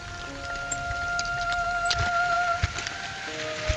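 Steady rain falls outdoors, a continuous patter of drops on surfaces with a few sharper nearby hits and a faint tonal hum running through it, no voices.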